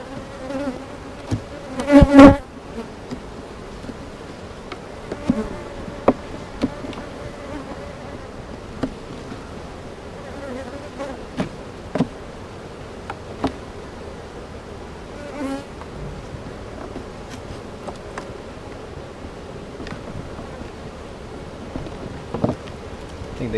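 Honey bees at an open beehive, with a continuous close buzzing swarm and louder passes as individual bees fly near, plus occasional clicks and knocks from hive equipment.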